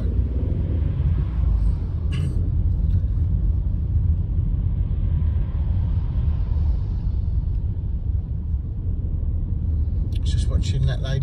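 A learner's car pulls away from standing traffic and drives along a Belvedere test route, with steady low engine and road rumble throughout and a brief louder passing sound near the end; a voice talks over it.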